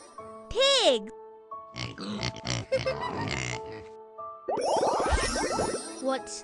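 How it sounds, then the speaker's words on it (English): A pig oinks and grunts in a children's animal-sounds game, a series of rough grunts between bright chime tones, with voices present. "Pig."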